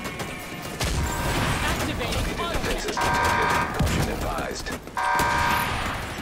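Rocket fire and explosions in a video game raid on Iron Horse, a continuous barrage of blasts and booms under players talking over voice chat.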